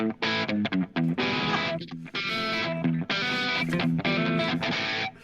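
An electric guitar with high-gain distortion plays a loud, chunky country riff in bursts of sustained chords separated by short clipped gaps.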